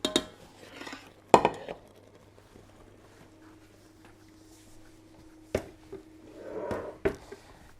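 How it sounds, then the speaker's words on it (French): A saucepan of fruit marmalade is lifted off the stove, with a few sharp metallic clanks and clinks of pan and utensil against the hob amid quiet kitchen background. "on va pouvoir retirer la casserole du feu"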